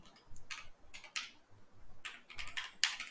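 Someone types an SQL query on a computer keyboard in short clusters of quiet, crisp key clicks separated by brief pauses, with no voice.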